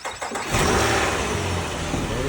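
A car engine cranks briefly with a jump start, catches and settles into a steady close-up idle.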